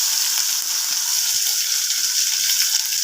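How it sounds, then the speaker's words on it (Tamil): Dried red chilies, garlic cloves and small shallots fry in hot oil for a Tamil drumstick-leaf stir-fry, giving a steady, close, dense sizzle with faint crackles throughout and no voices. "வெங்காயங்கள்லாம் நல்லா வறுபட்டுருச்சுங்க"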